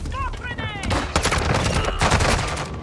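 Rapid gunfire and explosive bursts from a Modern Warfare 2 shooter match with the ISO Hemlock assault rifle, dense and loud throughout, with a brief voice and whistling tones early on.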